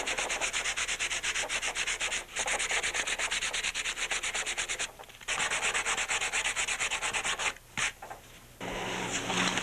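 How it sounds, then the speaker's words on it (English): Rough back-and-forth rasp of 80-grit sandpaper worked by hand over a surfboard ding repair, loud and close in long continuous strokes with a few brief pauses. "we're going to hand sand with 80"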